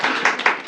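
A short burst of classroom clapping in an English lesson, several pairs of hands striking in a quick, slightly uneven rhythm, fairly close and moderately loud, with no voices over it.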